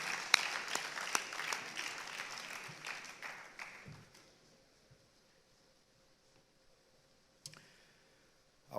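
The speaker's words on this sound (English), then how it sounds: "Please let us give ourselves" Applause from the audience at a conference closing plenary, dense clapping for about four seconds that thins out and fades to near silence, with a few late claps afterward.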